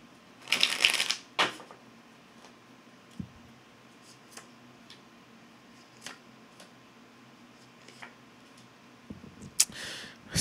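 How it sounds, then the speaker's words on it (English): Riffling tarot card shuffles in two bursts, one at the start and one at the end, with scattered light taps and clicks in the quiet between. "And one last shuffle, witch."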